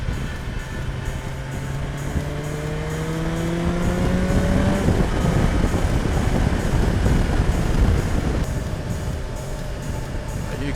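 A 2020 BMW S1000XR motorcycle engine revs up through the gears under steady wind and road roar, its rising whine climbing then settling into a loud continuous drone.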